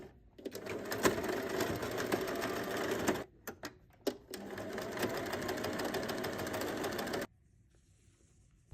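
A sewing machine top stitches across the ends of an elastic strip inside a fabric casing for a pencil case, running in loud, steady bursts with two short stops, then going quiet near the end.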